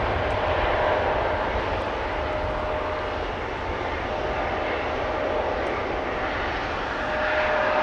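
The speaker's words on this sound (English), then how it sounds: "it's a Bombardier C-Series 300 aka A220" Bombardier C-Series 300 (A220) airliner at Amsterdam Schiphol Airport, a steady broad engine roar with a faint whine, sustained and fairly loud for several seconds without talk.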